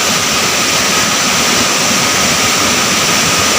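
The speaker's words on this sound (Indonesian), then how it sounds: "Air terjun 3 tingkat." A three-tier waterfall in Indonesia roars with a loud, dense, unbroken rush of falling water. No voices or other sounds break through it.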